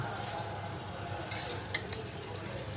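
Dried fish (shutki) and onions fry in oil while being stirred, a soft continuous sizzle with occasional scraping and light clinks of a utensil against the pan, quiet and close.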